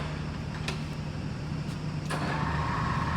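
A MAS VR4 radial drill machine with a 50 mm capacity and 1470 mm arm turns its spindle at 125 rpm, giving a steady low hum with a few clanks and a brighter whine rising near the end.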